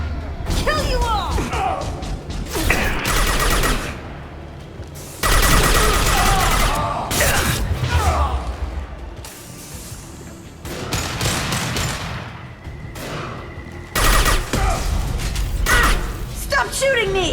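Rapid gunfire bursts from Mass Effect 2 on Insanity difficulty, with dense overlapping shots and impacts loud and near, broken by brief gaps, while voices shout over the combat.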